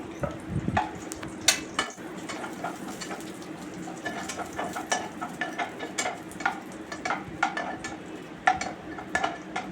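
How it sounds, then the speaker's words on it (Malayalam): Cashews and raisins frying in a pan for palada pradhaman, a soft crackling sizzle under frequent light scrapes and clinks of a spoon against the pan, close and alone without voices. "ആ സമയം കൊണ്ട് നമുക്ക് കുറച്ച് കാഷ്യൂസും കിസ്മിസും ഒക്കെ ഒന്ന് വറുത്തെടുക്കണം"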